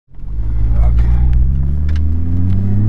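A modified Porsche 991 911 Turbo S starts up and accelerates hard, heard from the cabin as a deep, loud engine drone that swells quickly and holds while the pitch climbs steadily.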